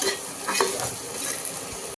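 Soybean chunks fry in hot oil in a pan, a short burst of close sizzling with a couple of stirring scrapes and faint utensil clicks before cutting off.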